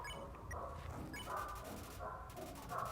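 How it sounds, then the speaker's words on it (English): A dog gives short whimpering howls and yips in a few bursts, faint and mixed with background clatter and voices. "Is he okay? Howling with joy."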